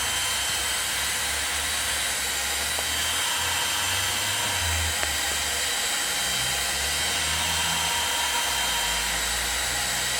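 A heat gun blows hot air over a freshly painted car part, producing a loud, continuous roar of fan and airflow with a low motor hum that stays steady from start to finish, and no one speaks.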